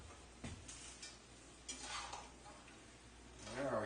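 Frozen peas and carrots tossed into a hot pan for shepherd's pie, with a spoon scraping and stirring against the metal and a soft sizzle underneath, the movements coming in short irregular strokes.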